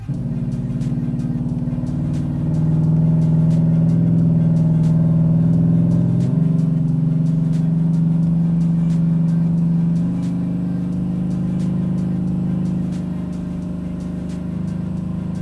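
A cammed LS3 engine in a Chevy TrailBlazer SS drones steadily at high load on a dyno for the whole stretch, its pitch shifting slightly a couple of times, loud and close with no voices.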